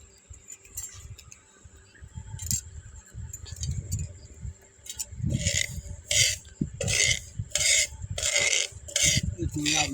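Fenugreek seeds being stirred as they roast in a pan for mango pickle, giving repeated scraping and rattling strokes that come close and fairly loud in uneven bursts, with no talking over them.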